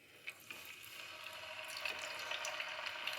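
Chicken tikka sticks sizzle in two to three spoons of oil in a pan over very low heat, a quiet, steady frying hiss that slowly grows, with a few faint clicks as the sticks are set down.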